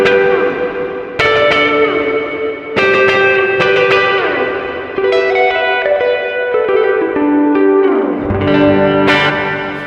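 Electric guitar chords ring out under heavy reverb, each strum trailing into a long washy decay, with a thick, spacious sound.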